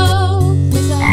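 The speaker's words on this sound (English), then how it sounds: "And on that farm he had a frog." A frog croak sung within a children's farm nursery rhyme, heard as a short, steady tonal croak over light musical accompaniment, loud and close.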